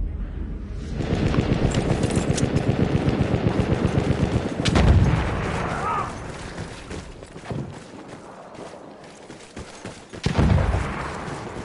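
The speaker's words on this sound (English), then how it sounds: "Machine gun, hostile!" Machine gun fire in the World War I shooter Battlefield 1: a long rapid burst of loud close automatic shots, then heavy booming blasts and scattered gunfire from farther off.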